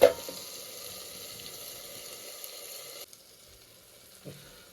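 Tomatoes cooking in a covered pan for a bamboo-shoot curry give a steady, moderate sizzle that drops quieter partway through, with a brief soft knock near the end and no talk.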